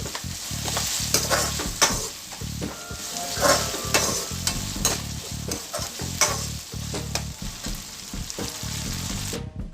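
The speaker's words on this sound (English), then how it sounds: "nicely saute that as well with my onion until the rawness of the ginger garlic paste disappears" Onion and ginger garlic paste sauté in a pan with a steady, close sizzle, broken by frequent scraping strokes of a spoon stirring the mixture; no voices.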